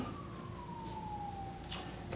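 A distant siren wails with a slowly falling tone, faint and steady over low background rumble.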